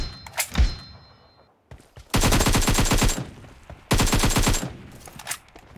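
Automatic gunfire in the video game PUBG: two long, rapid, loud bursts close up, with a few scattered shots and thuds before them and no talking.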